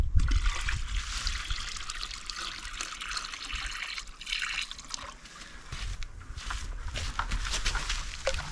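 Fresh water poured out for crayfish caught in traps at a Davis Lake campout, a steady close trickle and splash that runs unbroken for the whole stretch with no talking.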